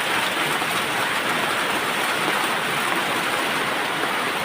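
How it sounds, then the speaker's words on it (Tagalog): Heavy rain pours down steadily during a November storm with flooding nearby, a dense, constant hiss of water on surfaces that stays loud and unbroken throughout, with no voices. "Sayo pa kayo, gaulan na."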